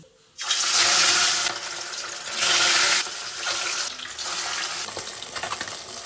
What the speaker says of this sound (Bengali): মাছগুলো একদিকে ভাজা হয়ে গেছে